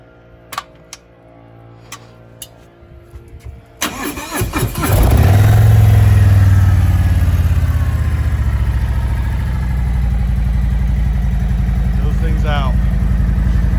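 A Shark Demon motorcycle engine cranks and catches after some clicks and a voice, then settles into a loud, steady, close idle that runs to the end.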